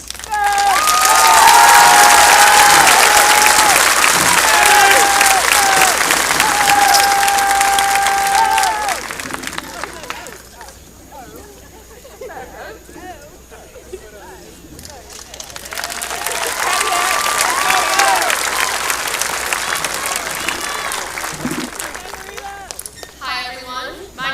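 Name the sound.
audience applause at high school commencement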